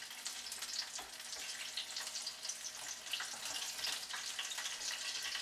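Banana fritters fry in hot oil with a steady, crackling sizzle, close and fairly quiet, popping bursts scattered through the continuous hiss; no one talks.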